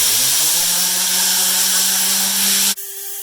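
A Tornador Max air cleaning tool sprays fluid with a loud, steady hissing roar and a low motor-like drone that holds evenly, then cuts off abruptly near the end.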